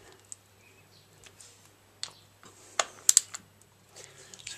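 A torque wrench clicks while tightening clutch bolts on a Harley-Davidson Sportster in a garage: a few sharp, close clicks bunched near the end over a quiet background.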